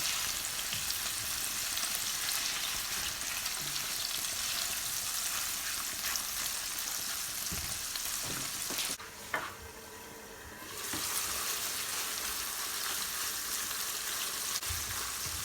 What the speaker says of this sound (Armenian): Հավի կրծքամիսը կտրում եմ փոքրիկ այսպես խորանարդիկների և տապակում եմ